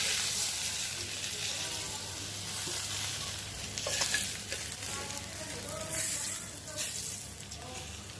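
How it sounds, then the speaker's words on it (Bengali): Roe-filled fish from Satkhira hiss in hot oil with a steady, close sizzle, dotted with small crackles and occasional spatters. "এখন ফ্রাই করবো।"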